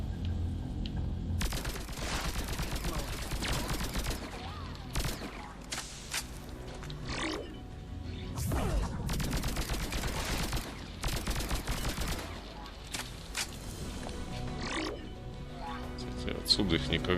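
Weapon fire in Mass Effect 3 on Rannoch comes in repeated loud bursts and rapid volleys spread over the stretch, separated by short lulls, with voices talking in between.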